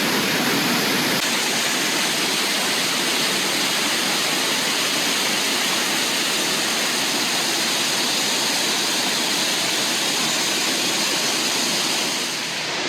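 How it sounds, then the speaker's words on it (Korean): A waterfall roars close by in a dense, steady rush of white water that holds constant loudness throughout, with no voices or other sounds over it. "폭포 소리가 멀어졌다 가까워졌다."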